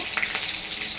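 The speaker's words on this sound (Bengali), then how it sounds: "একটা কারি পাতা" Curry leaf sizzling in hot oil, a short burst of bright, steady frying hiss with a couple of quick crackles near the start.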